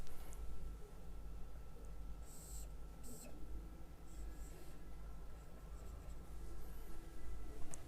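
A pen writes numbers by hand on paper, producing faint scratchy strokes in short bursts over a low background hum.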